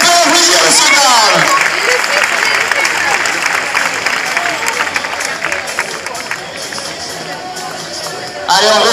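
A crowd applauds and cheers at a recortadores bull event in Beaucaire, loud, dense clapping over lively crowd noise and voices, fading slightly before a final swell.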